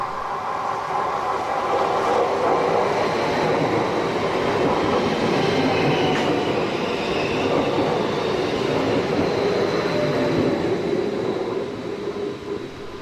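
A passenger train on the Oslo–Gjøvik Line in Norway runs through forest near Movatn and meets a southbound train from Jaren. A steady, loud rumble of wheels and rails continues without a break.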